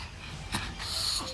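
A dog snorts and breathes wheezily up close: a sharp burst around the middle, then raspy, hissing breaths trailing off, with no talking.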